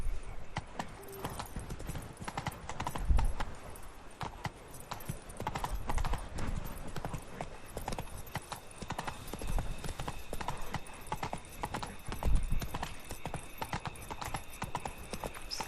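Roach, a horse in The Witcher 3: Blood and Wine, trots with steady, rhythmic clip-clop hoofbeats under game ambience, with a couple of louder thumps and a voice speaking now and then.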